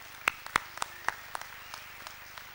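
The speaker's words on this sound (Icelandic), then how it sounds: "Gefum gott klapp." A few hands clap at an awards ceremony for children's sports in Borgarnes, Iceland, sharp separate claps loud and close at first, then thinning into fainter scattered claps.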